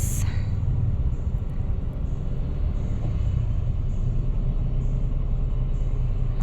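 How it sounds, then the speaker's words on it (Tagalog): Road traffic in Parañaque near road works makes a steady low engine rumble that holds without pause throughout. "Matraffic pa rin kasi may ginagawa silang daan doon."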